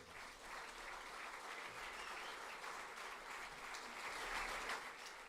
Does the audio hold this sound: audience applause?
yes